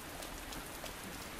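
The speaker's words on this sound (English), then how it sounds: "It's raining" Steady rain in the game Resident Evil 2 Remake, a faint, even broadband patter with no distinct drops standing out, continuous throughout with no voices.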